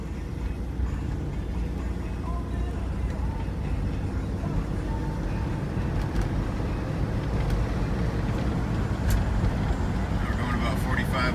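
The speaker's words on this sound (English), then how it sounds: "It idles nice and smooth." Idling engine of a cold 1983 Ford Mustang Convertible, a steady smooth low rumble that holds even and continuous, with a few faint clicks and ticks near the end.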